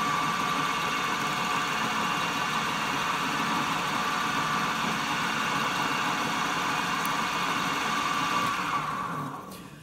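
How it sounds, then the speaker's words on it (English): A machine spindle spins steadily while a sticky pin is trued to its axis, giving a constant mid-pitched whir and hum with a faint high whine, close and unbroken before stopping right at the end. "So I'm just going to start the machine up to get it to run true"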